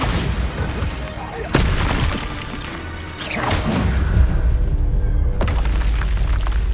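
The Bombarda explosion spell in the video game Hogwarts Legacy goes off in a few heavy booming blasts with crashing impacts, loud and close, over busy game noise and some voices.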